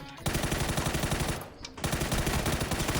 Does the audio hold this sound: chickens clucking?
no